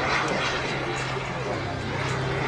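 Airplane making a gear down pass at an airshow, a steady engine drone throughout with a public-address announcer talking over it.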